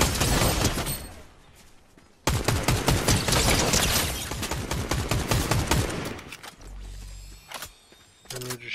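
Rapid bursts of video game gunfire from a team shooter firefight, dense volleys and sniper cracks ringing out loud and close, with brief pauses between flurries and a couple of deep thumps near the end.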